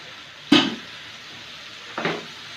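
Melted jaggery goes into a pan of plum pickle with tamarind, making two short bursts of sizzling and stirring about a second and a half apart, near and fairly loud, with no talk.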